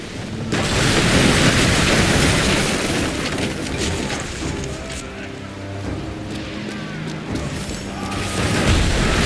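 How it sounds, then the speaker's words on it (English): Ship cannons fire in the Assassin's Creed Black Flag naval battle, loud booming blasts and crashing over a constant roar of sea and wind, with voices shouting beneath the din. "Man the cannons!"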